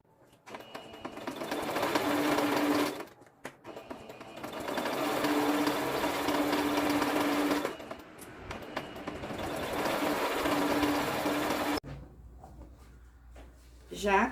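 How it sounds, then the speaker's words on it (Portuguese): A sewing machine stitches the full length of an apron seam in three long bursts of steady whirring with brief pauses between them, followed by a quieter stretch of fabric handling. "agora a gente vai na máquina de costura e vai passar uma costura aqui, ó, em todo o comprimento"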